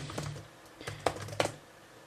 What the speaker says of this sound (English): just type in our username and password